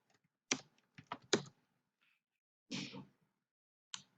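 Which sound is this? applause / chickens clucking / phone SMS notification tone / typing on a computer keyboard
typing on a computer keyboard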